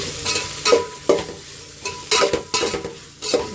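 Rice being stirred with turmeric and salt in a pan, producing scraping, clinking spoon strokes in an uneven rhythm of about six bursts over a soft sizzle, close and fairly loud with no talking.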